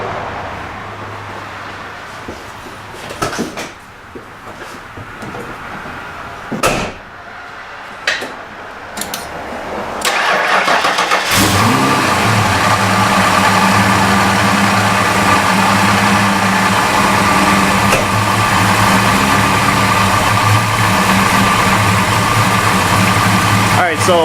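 A 1990 Mustang GT with a failing battery gives a few clicks and knocks, then at about ten seconds its engine cranks laboriously and settles into a loud, steady idle that runs to the end.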